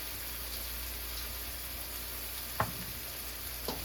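Baby bok choy with fried chili oil in a pan gives a steady, close frying hiss throughout, with two brief scraping stirs toward the end.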